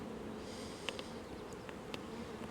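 Soft, steady buzzing of many honeybees close by at an open hive frame, a continuous drone with a few brief louder passes.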